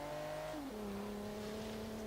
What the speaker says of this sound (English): Volvo's done a really stand-up job of keeping that engine noise really rather nice without sacrificing it for with the turbos